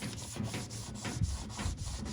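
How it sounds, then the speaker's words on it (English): Soft, close scrubbing of a household Scotch-Brite sponge rubbing the original factory yellow paint on a 1930s antique gasoline pump, a quiet rhythmic back-and-forth rasp with several strokes a second. "using this Scotch Brite sponge used for household use, I started rubbing the yellow paint"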